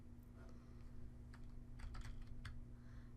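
Quiet typing on a computer keyboard, a few scattered key taps that cluster into a brief burst near the end, alone over a steady low hum.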